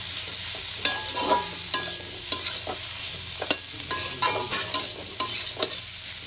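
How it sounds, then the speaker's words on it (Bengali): Vegetables lightly frying in a pan for egg prawn chowmein: a steady sizzle punctuated by frequent rhythmic spatula clacks and scrapes against the pan, close and fairly loud, with no voices. "সব সবজিগুলো দিয়ে নিয়েছি এবার আমি এগুলো হালকা ভেজে নেব"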